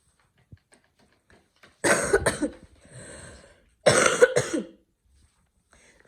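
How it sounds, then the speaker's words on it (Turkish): Two bursts of harsh coughing from a person recovering from illness, each a cluster of close, loud coughs with a short pause and a raspy breathy tail between them. "o yüzden ara sıra böyle bir öksürük falan geliyor"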